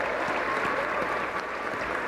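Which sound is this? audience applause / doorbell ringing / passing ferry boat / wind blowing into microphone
audience applause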